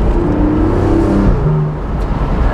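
A 2023 Porsche 718 Boxster GTS 4.0 heard from on the road, its flat-six exhaust swelling and easing with the revs over a loud, steady driving rumble and road noise, with no voices.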